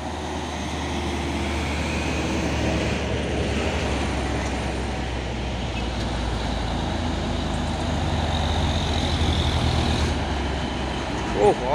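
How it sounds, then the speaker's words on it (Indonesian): Two box trucks drive past on a road in a continuous, loud, low engine rumble and road roar that swells slightly toward the end, with someone talking over it. "Oh, masuk lagi truk box, 2 unit truk box."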